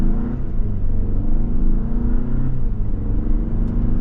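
A 2024 Hyundai Santa Fe Limited AWD pulls away from a stop, its engine note a steady, fairly loud rumble that rises gently in pitch as it gains speed, heard from inside the cabin.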